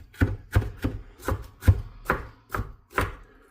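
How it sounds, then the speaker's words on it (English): A kitchen knife rocks through vegetables being finely diced for turkey soup, eight crisp, evenly spaced chops thudding on a cutting board up close, with no talk. "when I go for fine dicing, I put my hand on top and rock it like that"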